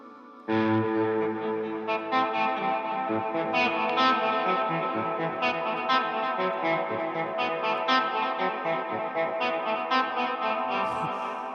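An instrument played through a high-gain distortion effect, thick saturated sustained notes and chords with bright harmonics, loud and close, continuing steadily for several seconds with occasional picked attacks.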